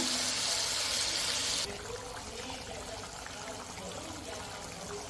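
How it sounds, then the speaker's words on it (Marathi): Boiled water poured into a pan of deep red fried onions for a village-style goat intestine fry, a loud hissing rush that cuts off sharply into a quieter simmering sizzle, close. "आपण त्याच्यात उकडून घेतलेलं पाणी मी पाणी घातलं घालणार आहे"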